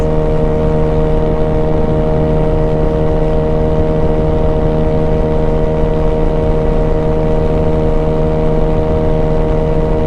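Honda Ruckus scooter engine running at high RPM, a loud, steady, droning hum with a strong tonal whine holding constant throughout, close by and alone.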